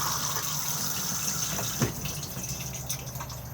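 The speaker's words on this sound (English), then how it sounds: "blue button to flush" Water rushing into the bowl of a Thetford cassette toilet inside a Benimar Mileo motorhome, a steady close gushing flush with a brief clunk partway through.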